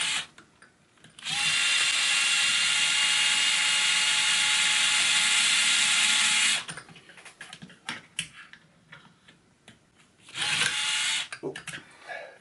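A power tool whirs in one long steady burst as it tightens a nut on a 2WD dirt promod RC car, followed by small clicks and handling noises and then a second shorter whir.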